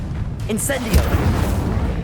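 Incendio fire spell cast in Hogwarts Legacy, a short whooshing burst of flame with a low boom, loud and close, over dense game background sound and a voice.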